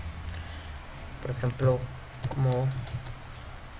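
Fingers tap a computer keyboard while working in a Linux terminal, light quick clicks scattered under someone speaking Spanish nearby.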